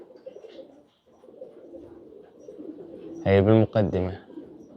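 Pigeons on a rooftop give a couple of close, throaty coos near the end, following a stretch of quiet background murmur, with someone speaking briefly.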